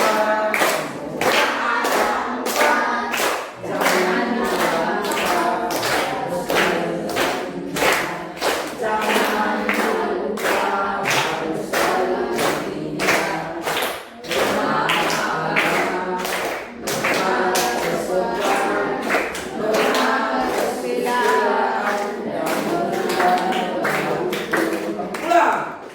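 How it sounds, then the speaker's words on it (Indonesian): A group of students claps hands in a classroom lesson, sharp rhythmic claps repeating steadily throughout while a teacher talks over them. "Sambil tepuk tangan teman-teman."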